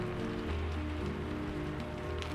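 Steady rain falls without a break, a soft, even, close hiss of drops on surfaces with a low rumble underneath, setting a calm backdrop for a bedtime story.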